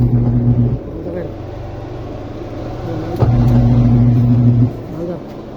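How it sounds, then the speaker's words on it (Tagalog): Spin dryer of a washing machine runs with a steady low hum and rumble, swelling louder in two bursts near the start and middle, recorded close with a voice speaking over it. "Spin dryer, maandar na."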